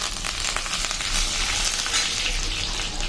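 Curry leaves crackle and hiss in hot oil, a loud dense spitting sizzle with faint stirring underneath, close and continuous for a few seconds.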